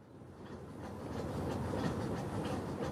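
A passenger train runs steadily on its rails on a journey to Calcutta, a continuous rumbling roar with a faint rhythmic clatter that grows slightly louder and stays close throughout, with no voices.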